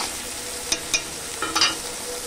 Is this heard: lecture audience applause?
no